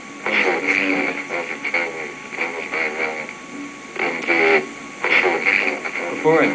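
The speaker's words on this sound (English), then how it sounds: "It looks like someone's left this radio on." Radio left playing in a virtual reality space, a tinny, band-limited broadcast voice talking in phrases with pauses, moderately loud and close.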